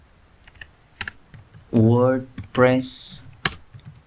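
Keystrokes on a computer keyboard typing into a website search bar: a few sharp, isolated clicks around a person talking.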